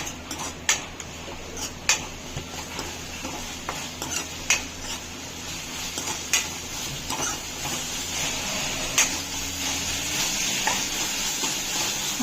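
Ginger garlic paste sautéing in a pan for Chettinad chicken, a steady sizzle with repeated sharp clicks and scrapes of a spoon against the pan, close and alone.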